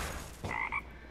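A frog croaks twice in the Eternal card video game, a short bright double call standing alone over a quiet background.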